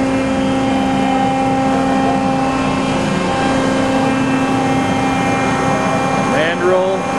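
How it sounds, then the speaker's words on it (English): A Pines AD 35 CNC tube bender's hydraulic pump runs at a steady low hum, with a continuous drone and faint tonal whine throughout and brief mechanical squeaks near the end. "Pump is pretty quiet down there."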